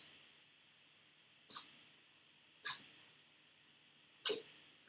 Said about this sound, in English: And I apologize for the sneezing in the background.